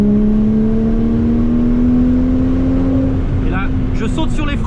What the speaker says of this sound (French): On va repousser un coup en troisième.